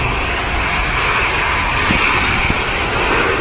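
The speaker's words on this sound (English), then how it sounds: "There goes the EasyJet on the way out" An EasyJet airliner departs Manchester Airport with a steady, loud jet engine roar that fills the whole stretch without a break. No voices are heard over it.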